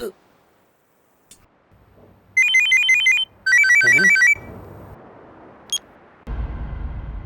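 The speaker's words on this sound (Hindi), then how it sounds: "ए फोन आया रे" A phone ringtone plays in two short bursts of bright repeating electronic tones, fairly loud, followed by quieter room noise and a brief beep.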